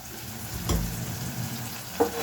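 Tomato and onion cook in a pan with a steady low sizzle, a stirring scrape near the start and a small clatter near the end, with no talking.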